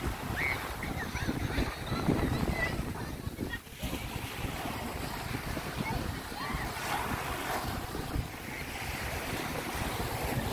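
Continuous rumbling surf at Skegness with wind buffeting the microphone, a broad roar of sea waves that swells and recedes without a clear pause.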